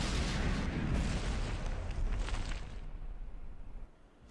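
Cram cannon rounds firing in From the Depths, a dense, heavy barrage of booming shots and explosions that rumbles continuously, then thins and fades toward the end.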